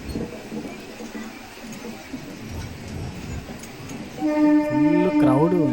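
A Narsapur MEMU train passes at a station, its rumble and clatter building, then a loud horn blast with harmonic, bending tones rises in the last seconds over steady background noise.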